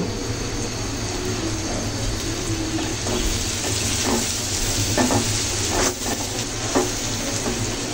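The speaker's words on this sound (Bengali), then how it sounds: "বাঁশপাতা শুটকিগুলো বেশ ভালো করে ভেজে নিতে হবে" Dried bamboo-leaf fish shutki fries in a pan with turmeric, giving a loud, continuous close sizzle, with occasional stirring scrapes throughout.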